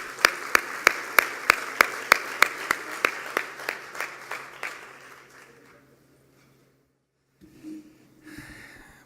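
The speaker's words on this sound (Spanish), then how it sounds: "Recibimos a Javier Treviño con un aplauso de parte de todos ustedes." A conference audience applauds a speaker as he is welcomed, with a string of crisp, evenly spaced claps that gradually fade to silence, followed by faint rustling.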